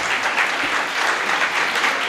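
Steady crowd applause at an annual Jain temple festival, a dense, even clapping that holds at a constant level throughout with no voices rising above it.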